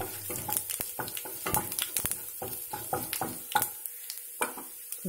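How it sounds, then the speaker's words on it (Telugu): Mustard seeds, cumin, urad dal and dried red chillies splutter in about three spoons of hot oil for tempering, giving close, irregular crackling pops and sizzles with brief gaps between bursts. "పోపు చిట్పట్లు ఆడుతుంది."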